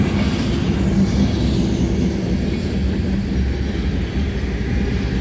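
Freight train rolling past at night with a mid-train DPU locomotive, a steady loud rumble of wagons and engine noise that holds evenly throughout with no voices.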